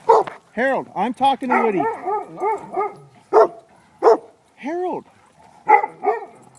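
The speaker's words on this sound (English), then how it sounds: "Walk, don't bark." Woody, a dog, barks and yips repeatedly close by, a burst of rapid barks followed by spaced single barks, while someone speaks between them.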